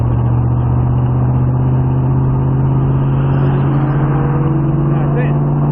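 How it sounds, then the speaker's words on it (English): An AC Cobra accelerates on the TopGear race track. Its engine gives a loud, steady droning roar with a strong low tone, heard from inside the car, and voices can be heard over it. "Can you hear the car?"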